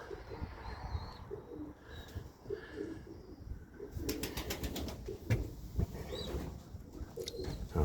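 Soft pigeon cooing in low repeated phrases, moderately near, with faint chirps and background rustling throughout.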